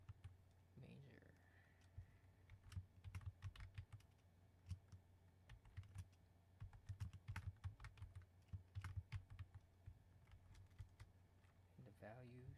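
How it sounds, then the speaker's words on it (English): Computer keyboard keys tapped in quick, uneven bursts of clicks, close and clear over a low steady hum, with brief pauses between runs. "then we're gonna type in insert to"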